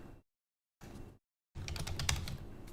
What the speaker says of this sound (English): Sometimes I can type fast, and then other times I end up just spamming on the keyboard